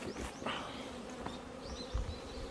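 Wasps buzz around a beehive, a close, steady insect hum with individual wings rising and fading as they pass near, fairly faint overall.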